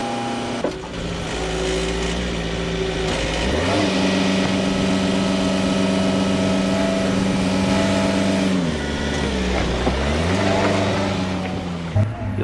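A JCB telehandler's diesel engine runs steadily close by while unloading bins from a trailer, droning at a working idle and rising in pitch and load twice as the machine lifts and moves, with a faint whine over the top.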